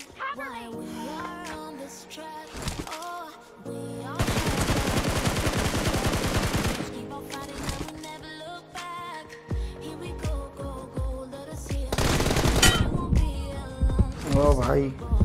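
Bursts of rapid gunfire ring out in the mobile battle game BGMI during a one-on-one team deathmatch, loud automatic volleys separated by quieter stretches, with voices talking over the action.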